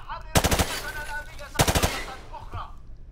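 Two loud bursts of rapid automatic gunfire in Call of Duty Modern Warfare Remastered, each volley a quick string of close shots, separated by a brief gap with faint game ambience and a short thump near the end.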